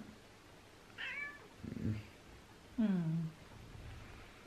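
A house cat meows three times, the calls spaced about a second apart, with the last one louder and longer, fairly close in a quiet room.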